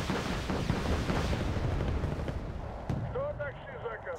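Weapons fire in the Cold War strategy game Wargame: Red Dragon, a dense, continuous rumble of artillery and gunshots that fades toward the end as a few high whistling tones rise over it.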